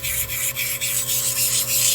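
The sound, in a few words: grinding edges of carnelian cabochon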